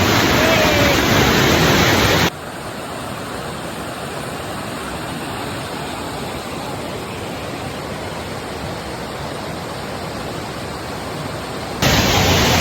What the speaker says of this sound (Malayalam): ഈ ഒരു കിടിലം വെള്ളച്ചാട്ടം കിട്ടിയിട്ടുണ്ട് ഗായ്സ് ഒരു രക്ഷയില്ല നിങ്ങൾ നോക്ക്